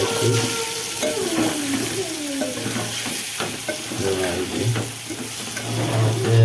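Stuffed spiny gourd (kantola) fries in oil with chili powder while being stirred, a continuous sizzle broken by scraping stirring strokes, and a voice speaks briefly over it.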